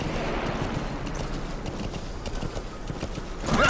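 Horse hooves clip-clop in a quick, rhythmic gallop amid game-like ambience in Metal Gear Solid V, with a brighter burst of sound near the end.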